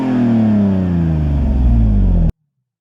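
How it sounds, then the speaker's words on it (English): A Toyota 2JZ-GE engine in a Lexus with a Haltech Elite 750 ECU, soft cut removed, revving loudly and close up, its pitch climbing steadily toward the limit before cutting off abruptly into silence. "Now we've removed that soft cut, so rev the engine all the way out here."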